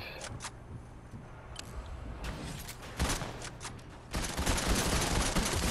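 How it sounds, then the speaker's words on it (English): Gunshots in a competitive shooter video game: bursts of rapid gunfire come and go, getting louder and denser toward the end, with no one talking. "I hear gunshots"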